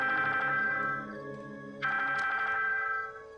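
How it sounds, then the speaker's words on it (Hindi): A phone ringtone plays in an indoor drama scene, two clear melodic bursts separated by a short dip, with no talk over it. "रॉइस का फोन। स्पीकर पर लगा।"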